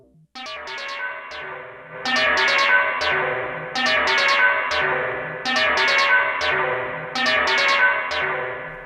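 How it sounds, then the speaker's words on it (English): Analogue Solutions Colossus Quartz synthesizer playing a repeating sequence of bright plucked notes through stereo reverb, each phrase ringing out with echoing tails in a steady rhythmic loop. "Turn the reverb up."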